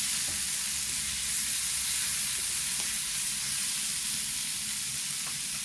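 Tomato pieces sautéing in a hot pan, giving a steady, close sizzle with faint stirring scrapes. No one talks over it.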